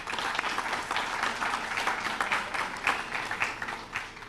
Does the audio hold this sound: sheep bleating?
no